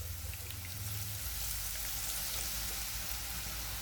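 Boondi batter for Tirupati laddu dropped into hot oil, giving a steady, dense sizzling hiss that holds throughout, close and even, with a low thump near the start and no voices.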